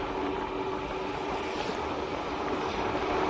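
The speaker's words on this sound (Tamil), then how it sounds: "அவ்வளோ காற்று சத்தம் ஃபுல்லாக கேட்கும்." Strong outdoor wind buffets the microphone with a constant loud rushing roar, broadband and unbroken throughout, with no voices.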